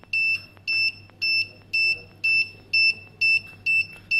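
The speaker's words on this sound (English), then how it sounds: "the closer we get, the harder the buzzer sound will become." An Arduino ultrasonic obstacle sensor buzzer on a smart blind stick beeps in a steady, repeating pattern, about eight short tones, loud and close, with a faint low hum underneath.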